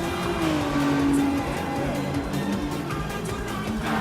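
A race car drifts in Gran Turismo Sport at the Nürburgring with a sustained engine drone and a rising tire squeal, loud and continuous throughout, while a commentator talks over it.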